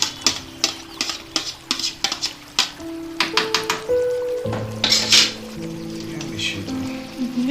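A spoon scrapes and clatters around a pan of fish curry, quick rhythmic stirring strokes with metallic knocks, close and fairly loud; a voice talks over part of it while faint sizzling continues beneath.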